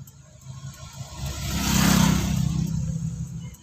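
A car pulling away on half clutch during a driving lesson, a steady engine hum that rises into a louder, strained drone as it moves off and then settles slightly, heard close from inside with no talking over it.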